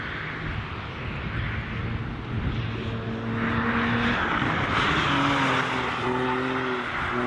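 A budget hatchback race car lapping a circuit during a race, its engine droning steadily with rising and falling pitch as it accelerates and lifts, loud and close throughout with no talking.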